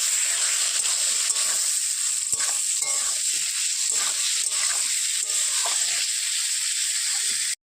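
Chili powder and onion paste fry in a hot pan, making a loud, constant hiss with light stirring scrapes and crackles throughout before it cuts off abruptly at the end, no voices.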